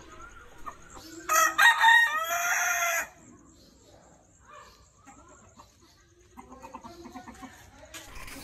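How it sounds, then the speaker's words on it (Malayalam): Outdoors, a rooster crows loudly and close by for a couple of seconds, then chickens cluck softly in scattered bursts, with more clucking building near the end. "പുറത്തേക്കിറങ്ങിയപ്പോൾ കുറേ കോഴികൾ നിന്നതാണ് നടക്കുന്നുണ്ട്."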